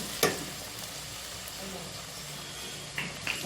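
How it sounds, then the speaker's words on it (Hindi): Crushed ginger-garlic paste fries with onions in a pan for a chicken gravy, a steady close sizzle with a few sharp stirring scrapes and clacks of a utensil against the pan. "इसे भी हम प्याज के साथ फ्राई कर लेंगे।"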